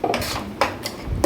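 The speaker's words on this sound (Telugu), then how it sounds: "ఆ పేస్ట్ని వేసి కొంచెం కలయి తిప్పాలండి." A spoon scrapes and clinks against a metal pan while ground tomato paste is stirred into hot oil, giving a few distinct knocks spaced across a short stretch, close and fairly quiet.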